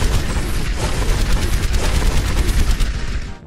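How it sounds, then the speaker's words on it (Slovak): Dense, rapid gunfire in Fortnite crackles continuously, bursts overlapping into a loud sustained clatter before cutting off at the end. "Pozor, strieľajú!"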